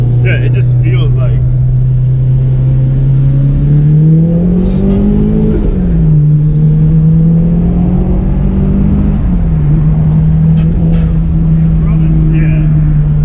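A Nissan Skyline's engine holds a steady low drone that rises briefly around the middle and again later, staying loud and continuous throughout, with people talking over it.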